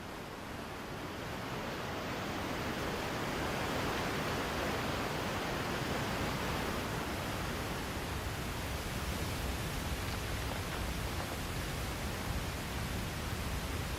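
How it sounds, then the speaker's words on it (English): Icy spring torrents rush down Alpine mountainsides in a steady, broadband roar of water that holds constant and loud throughout, with no voices over it. "when spring comes, icy torrents pour down the mountainsides"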